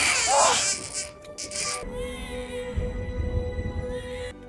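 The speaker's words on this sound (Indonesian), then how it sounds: "bayi itu pun berhasil hidup dan mulai menangis" A newborn baby girl cries in short, wavering wails that fade into quieter whimpers, set against a dim, muffled background hum.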